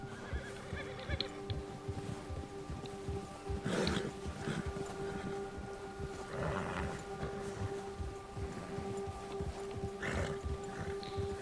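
Horse in the Red Dead Redemption 2 video game, heard along a wooded trail during a bear hunt, giving a few agitated whinnies and snorts over a steady in-game ambient hum, with some hoof and movement noise mixed in.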